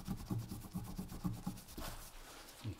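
A rag rubbing fine automotive paint polish over the oxidized painted surface of a 1960s Unimet lantern, soft rhythmic back-and-forth strokes, close and quiet, with no talking.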